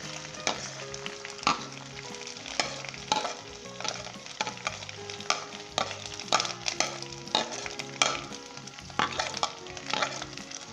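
Onions frying with ginger and garlic in a pan, a steady close sizzle with frequent stirring scrapes and clatters, with no talking.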